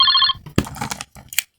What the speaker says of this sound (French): Quelque chose me dit qu'il y a l'une des deux maisons qui va recevoir son premier coup de téléphone.